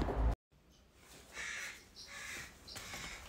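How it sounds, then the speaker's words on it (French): Hungry crows caw outdoors, a few harsh calls spaced across the clip at moderate distance, after a brief abrupt noise and a short silence at the start. "les corneilles qui ont faim qui gueulent"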